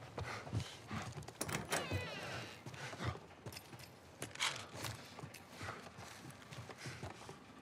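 Horses in the video game The Last of Us Part I give close, irregular hoof clops and shuffles, with scattered clicks and rustles around them.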